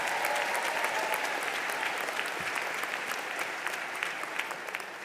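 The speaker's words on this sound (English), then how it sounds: "Let's give alumnus McKeon another round of applause for those inspiring words." An audience at a university commencement applauds, a dense, sustained wash of clapping from a large crowd that tapers off slightly toward the end.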